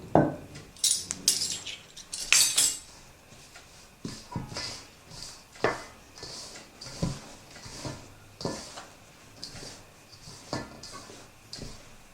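Barley flour dough being worked by hand with safflower oil in a bowl, giving a steady, rhythmic run of soft taps, squelches and light clinks at close range, with no talking.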